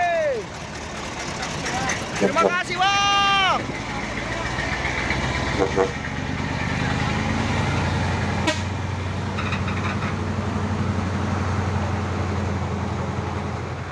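A Kusoren 6x2 trailer container truck idles close by with a deep, steady engine rumble. Horn toots and passing traffic sound early on, and a person speaks briefly.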